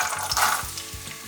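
Carrots frying in fat in a pan for a vegan vegetable rice, with a dense, steady sizzle and several soft rhythmic scrapes from stirring, close and continuous with no talking.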